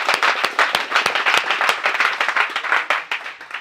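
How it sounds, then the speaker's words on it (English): Loud, dense audience applause at a sales training speech, with many hands clapping continuously and close by throughout. "guys can give a round of applause to yourselves."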